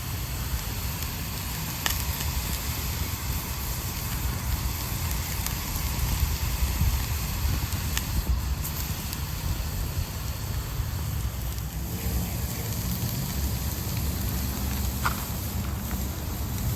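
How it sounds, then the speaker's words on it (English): A self-sustaining fire of wet wood cooked in bacon grease burns outdoors in light, constant sprinkling rain, a dense continuous hiss and patter with faint crackles and occasional sharp pops throughout. "That is a good, solid, self-sustaining burn, in spite of the constant sprinkling rain."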